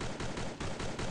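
Rapid sustained gunfire from an SVD rifle in a shooter video game, dense and loud bursts running continuously with slight dips in rhythm.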